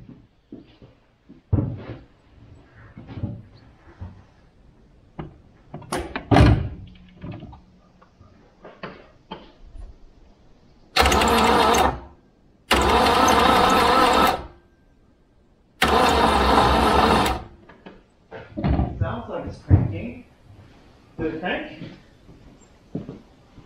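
An old BMC 1800 'Landcrab' engine, left sitting for years, cranks over in three loud, steady bursts of starter grinding, separated by short pauses, with talk before and after.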